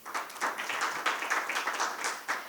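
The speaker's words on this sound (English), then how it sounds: "May we please give him a round of applause again?" An international conference audience gives a round of applause, a steady patter of many hands clapping at moderate distance, fairly faint, with no talk over it.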